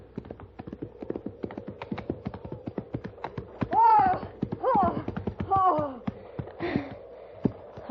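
Horse hooves clip-clop in a steady, close rhythm as a radio drama sound effect for a Western, with short bursts of other sounds over the trotting.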